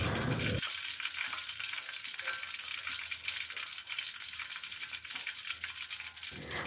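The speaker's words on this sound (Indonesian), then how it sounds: "Gunakan sisa minyaknya untuk menggoreng bahan sambal." Steady, dense sizzling of sambal ingredients, curly chilies and bird's eye chilies, frying in hot oil, close and continuous with no talking.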